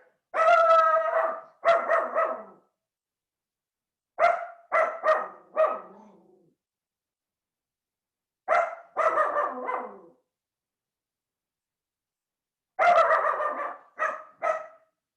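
A pet dog barks in repeated bursts of two to four sharp, loud barks separated by silent pauses of a few seconds, close to the microphone, with no talking.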